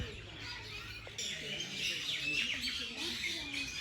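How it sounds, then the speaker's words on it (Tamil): Sparrows chirping in a large banyan tree full of figs at a hillside rock-cut temple site, with many overlapping high tweets and calls, moderately close and continuous. "ஒரு மிகப்பெரிய ஆலமரம், ஃபுல்லாக ஆலங்காய்கள், குருவிகளோட சத்தம்."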